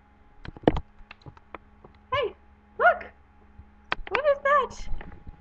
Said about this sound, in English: That's the little dog. He's very cute.